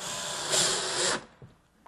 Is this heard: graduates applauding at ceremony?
no